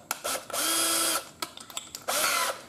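A power drill with a Forstner bit bores a hole for a handmade fishing lure. It runs in two whirring bursts close by, with short clicks and handling noises between them.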